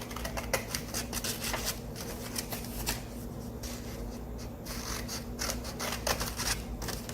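Scissors snip through paper in quick, irregular crunchy cuts, close by and fairly quiet, with no talking.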